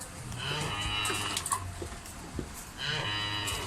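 Cattle moo repeatedly amid farmyard background noise, with a long low call at the start and another near the end.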